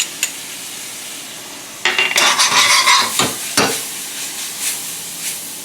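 Spice-rubbed pork with finely minced garlic hits a hot pan and bursts into a loud, close sizzle, followed by a few scraping stirs before settling into a steady frying hiss.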